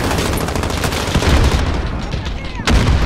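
Gunfire in Call of Duty Warzone, rapid bursts of shots crackling loud and close throughout, with a sharp heavy report near the end and players talking in between.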